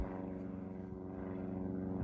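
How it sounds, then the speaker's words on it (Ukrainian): A plane passes overhead near the sea at Étretat in France, a low, steady, distant engine drone that fills the open countryside without any talk. "Щоправда, ще літак летить."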